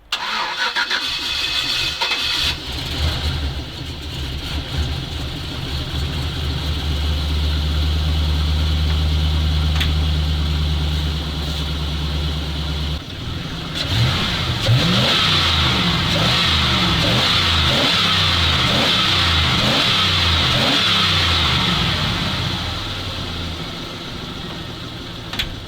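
A ZIL truck engine idles with a deep, steady rumble. It then restarts and revs, the throttle blips rising and falling in a rapid, uneven series.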